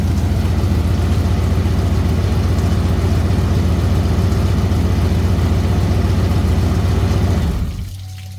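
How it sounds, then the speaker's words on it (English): A 1997 Ford engine idles loudly and steadily close by with a constant low rumble, then shuts off near the end, leaving a quiet residual hum. "I don't know if you could have heard me over the engine"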